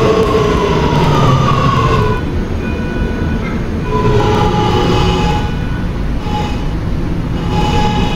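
A Roblox R211A R local subway train runs toward Myrtle Avenue, a loud continuous rumble and rattle of wheels with rising and falling high whining tones from the motors throughout.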